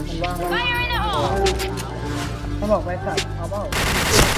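Rapid gunfire from the Point Blank first-person shooter video game crackles in dense bursts throughout, mixed with a busy game soundtrack and voices talking over it.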